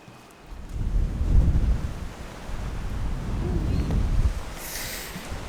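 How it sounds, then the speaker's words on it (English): Gusty wind at the beach in Anastasia State Park's ancient dunes, buffeting the microphone with low rumbling surges that rise and hold for several seconds. "It's getting windy without that cover."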